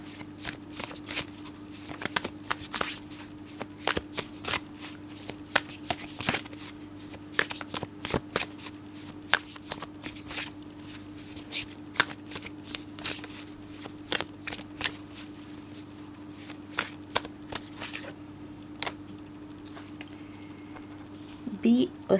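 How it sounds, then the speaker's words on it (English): A deck of tarot cards shuffled by hand, giving repeated crisp riffling and flicking bursts over a steady low hum, close and fairly quiet, with no talk. "Let's shuffle and get a card for Capricorn."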